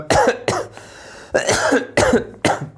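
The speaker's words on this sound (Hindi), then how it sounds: "आज खांसी तो कम आई है" Several harsh coughs in separate bursts, close and loud, with brief quiet gaps between them.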